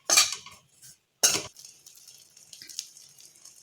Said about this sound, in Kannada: ಇಡ್ಲಿಗಳನ್ನ ಈ ಥರ ಟರ್ನ್ ಮಾಡಿ ಬಿಸಿ ಮಾಡ್ಕೊಳ್ಳೋಣಂತ